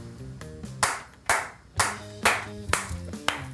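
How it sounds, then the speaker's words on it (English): Several sharp hand claps land at an irregular rhythm, loud and close, over a background of music. "clapping their hands like a maniac"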